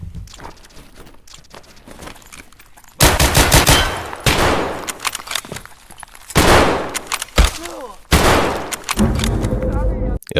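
Gunfire erupts in Escape from Tarkov, several loud close shots and bursts coming in separate blasts after a quieter opening, with echoing tails between them.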